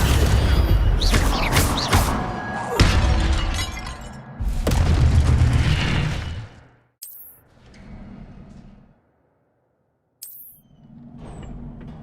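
Incendio fire spell bursting in Hogwarts Legacy: a loud, crackling, shattering blast with roaring flames, followed by a second burst, then quieter magical whooshes and bright chimes as the noise dies away.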